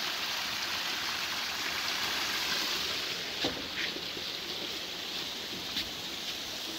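A Colorado mountain creek rushes steadily nearby, a constant bright watery hiss with a few faint splashes standing out.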